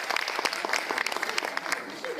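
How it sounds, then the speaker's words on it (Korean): Audience applause for a speaker at a Korean lecture on a local self-government law, brisk dense clapping from a crowd at moderate level, continuing throughout with no voices over it. "오늘 고생하신 강석준 목사님 박수 한번 쳐드립시다"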